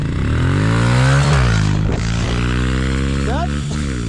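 Pit bike engines roar at close range during a drag race launch, with rising harmonic pitch as they accelerate through gears and a sharp upward rev near the end; voices talk over the engine noise.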